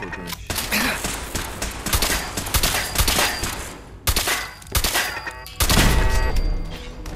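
Fallout 4 combat gunfire, a steady loud fusillade of rapid shots with heavy thumps, continuous for several seconds and ending in a louder burst near the close.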